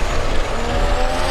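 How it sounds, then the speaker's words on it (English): A single-turbo six-cylinder drag car with an 80mm VS Racing turbo blasts down the strip in a loud, dense, roaring rush, heard from the track side at a drag racing event. "tell by the sound of the 6-cylinder power left-hand side"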